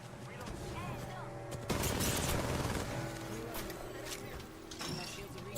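Rapid bursts of automatic gunfire in the Apex Legends shooter, with a sharp loud volley near the start followed by continued crackling shots and in-game ambient noise underneath.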